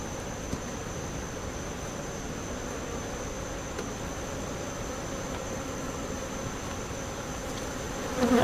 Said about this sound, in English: these bees have some great genetics